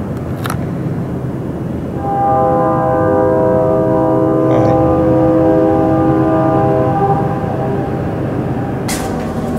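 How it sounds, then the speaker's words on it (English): Train rolling past close to an old county jail, a steady rumble swelling in after a couple of seconds with a sustained multi-tone horn-like chord riding over it, loud and continuous to the end. "Of course the fucking train is louder than fuck."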